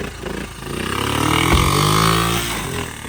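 A revived Honda Z50 chopper motorcycle pulling away, its small engine revving up close and loud, then easing off as it rides off with a brief shift.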